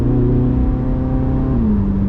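Chevrolet Corvette C8 Z06 engine in Tour mode running at a steady, loud, close drone with a low rumbling tone that eases slightly lower toward the end, no voices.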